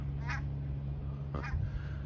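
Geese honking in a field outside Ribersborg beach near Malmö, Sweden: two distinct loud calls about a second apart over a steady low background hum.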